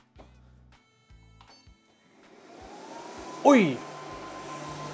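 A Prusa Core One 3D printer runs its self-test: short buzzy motor bursts first, then a fan spins up into a loud, rising whoosh with a sharp whine, holding steady at the end. A voice briefly exclaims.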